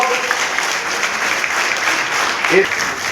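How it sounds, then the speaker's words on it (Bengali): A crowd applauds at a Trinamool Congress political meeting in Chinsurah, a dense steady patter of clapping for the whole stretch with a speaker's voice heard over a loudspeaker. "একটু হাততালি দিন"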